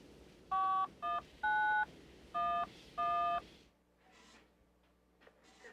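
Five touch-tone beeps ring out as 911 is dialed on a telephone, each one clear and evenly spaced, followed by faint quiet noise.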